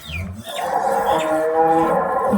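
A Jersey cow gives a long, low moo that holds steady for a couple of seconds, close by and fairly loud, with faint bird chirps in the background.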